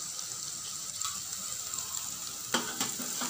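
Masala and chili powder fry in hot oil for a small-fish curry, giving a steady close sizzle with a couple of sharp utensil scrapes near the end.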